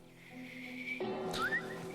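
A game character whistling in The Last of Us, a faint wavering tune with a few rising pitch slides and no speech.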